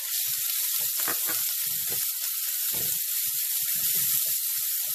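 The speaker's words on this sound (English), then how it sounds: "so we're gonna saute the stuffing first before we stuff the quail with it" Chopped garlic, ginger, galangal, kaffir lime leaves and lemongrass sauté as a stuffing for quail, giving a steady, bright sizzle throughout with soft scattered crackles and stirring scrapes, moderately close and without talk.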